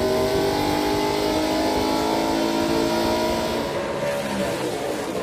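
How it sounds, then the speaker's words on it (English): NASCAR Pinty's Series stock cars race door to door into a turn at the Grand Prix of Toronto street circuit at Exhibition Place, a loud continuous roar of engines that eases slightly near the end. "They race down into turn number 1, door to door."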